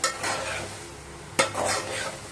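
Masala for Chennai-style vadakari sautéing in a pan, with a soft steady sizzle and stirring scrapes, plus a sharp utensil knock against the pan partway through.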